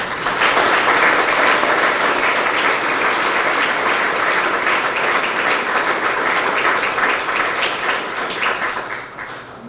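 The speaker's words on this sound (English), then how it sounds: "another round of applause for Jason and DC United" Sustained audience applause at a Loudoun United FC press conference, a full, even roar of clapping lasting nearly ten seconds before fading toward the end, heard alone without talk.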